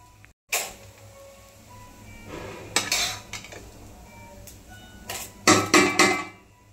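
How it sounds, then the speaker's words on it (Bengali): Rice grains rattling into a metal rice cooker pot, with clattering pot and utensil noises in bursts, close by in a quiet kitchen, no talk. "আমি যেহেতু রাইস কুকারে করব তাই জন্য রাইস কুকারে আমি চালগুলো দিয়ে দেবো।"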